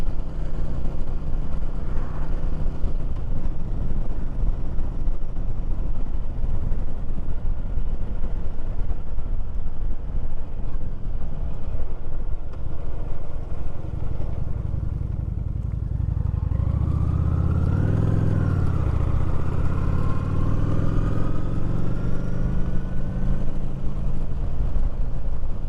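A Honda Shadow 750 motorcycle rides along on an early morning ride, its engine a continuous loud low drone mixed with wind rush, rising in pitch as it accelerates partway through.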